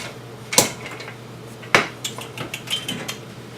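A knife and a small cutting board handled in a home kitchen while roasting chicken, giving two sharp clattering knocks followed by a few lighter taps and clinks, close and without talk.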